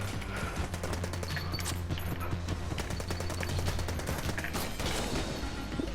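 Rapid Uzi fire from the Enter the Gungeon video game rattles continuously and loudly, with dense repeated shots layered over game sound effects throughout.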